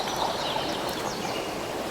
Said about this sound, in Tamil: இந்த சூட்டுக்கு நல்ல தண்ணி அந்த சவுண்டு கேட்கும்போது எவ்வளோ அழகாக இருக்குது பார்த்தீங்களா